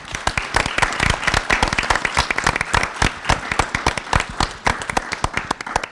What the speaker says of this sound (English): so I want to give those guys a round of applause.